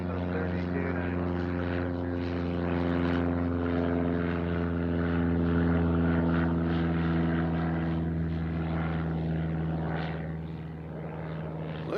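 A propeller airplane at Nashville International Airport drones loudly and steadily, its layered engine hum sustained throughout with slight swells, as a voice talks faintly underneath.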